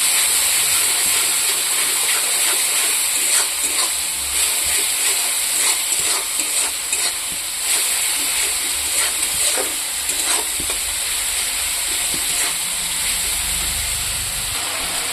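Spice paste with salt and turmeric fries in a pan for a tengra fish and potato curry: a steady, loud, close sizzle with crackling pops and hiss running unbroken throughout, no voices.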